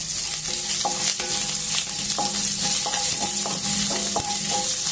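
Cashews, green chillies and curry leaves fry in a pan with a steady, loud sizzle, while a utensil scrapes and clinks against the metal in an irregular stirring rhythm, with no voices.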